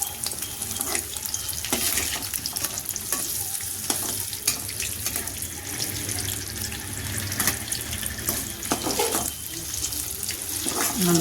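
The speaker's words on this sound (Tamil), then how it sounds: "நல்லா பொரியட்டும்." Egg pieces frying in sunflower oil for egg 65 give off a steady, dense sizzle with occasional stirring clatter. The sound runs throughout at close range with no talk over it.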